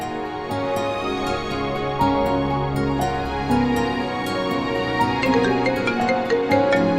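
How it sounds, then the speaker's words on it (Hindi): Phone ringtone playing a repeating melodic tune, loud and close, steady throughout with a rhythmic pattern of notes and no voices over it. "प्लीज फोन उठा लो।"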